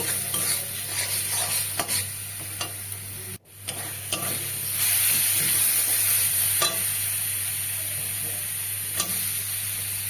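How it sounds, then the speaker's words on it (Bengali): Fish bladder stir-fried with turmeric and salt in a pan sizzles steadily, with a spatula scraping and clicking through the masala in a close, continuous rhythm, briefly dropping out once before the frying resumes louder. "এবার সামান্য হলুদ দিলাম নুন দিয়ে আর একটু কষিয়ে নেব"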